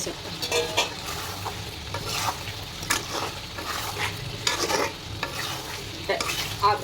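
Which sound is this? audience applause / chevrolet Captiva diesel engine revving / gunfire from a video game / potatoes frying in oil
potatoes frying in oil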